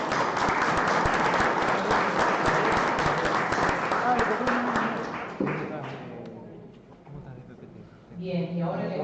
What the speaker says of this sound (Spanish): Vamos a pedir unas palmas por ustedes.